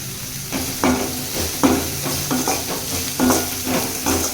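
Onions sautéing in a pan with turmeric and asafoetida for masala dosa filling, a steady sizzle under repeated scraping stirs of a spoon at a loose rhythm, close and moderately loud.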